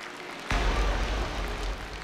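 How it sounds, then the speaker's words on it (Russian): Audience applause for a stage illusion act at a live show, breaking out abruptly and continuing steadily at full volume with dense, even clapping. "Еще раз давайте наградим аплодисментами Дмитрия за этот поистине опасный номер."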